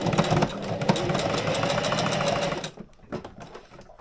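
Sewing machine stitching zigzags on boat life lines for a Drascombe Lugger: a loud, fast mechanical whirring chatter runs steadily, then stops abruptly, leaving a few quieter clicks and handling noises.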